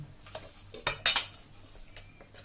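A fork pokes and scrapes at frozen prawns on a plate, giving a few light metallic clinks and taps, one sharper tick standing out, all fairly quiet with no talking.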